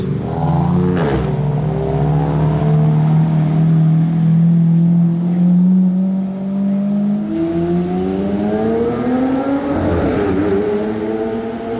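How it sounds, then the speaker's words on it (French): Porsche GT2 RS driving past, its loud engine note climbing and sweeping in pitch as it approaches and goes by, then rising again in a second revving swell near the end. "je viens de vous parler de GMK et il passe en GT2 RS"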